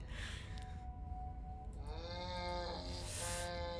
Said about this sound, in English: how he just lies there mooing like a cow